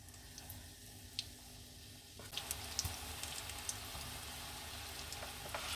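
Small spoonfuls of mini donut batter sizzling in hot frying oil, a steady close crackle that grows denser and brighter midway, with occasional sharp pops and faint utensil clicks.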